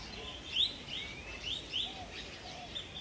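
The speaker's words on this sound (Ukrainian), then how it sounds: "Клас, тут така кількість величезна попугаїв" Several short, high parrot chirps repeat over steady outdoor background noise at a hot spring park in Da Nang, somewhat distant and moderately quiet.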